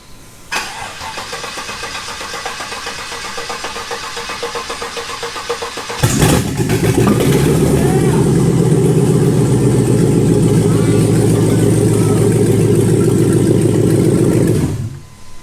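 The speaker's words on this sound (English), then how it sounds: "Took a little bit to crank to start it, but I think it sounds healthy." A shop truck engine running on an old tractor battery cranks for several seconds, catches with a loud burst, then settles into a strong, steady idle before cutting off near the end.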